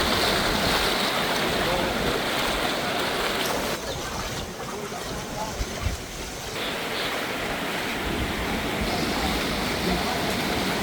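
A flooded river rushes hard and continuously in a dense, roaring wash of water noise that stays loud throughout, with wind buffeting the microphone.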